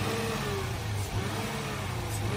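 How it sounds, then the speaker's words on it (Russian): An old Mercedes 5.5-litre V8 engine running and revving, a steady loud mid-pitched drone with a slowly rising and falling tone, heard up close with no talking. "Вот он, V8 двигатель."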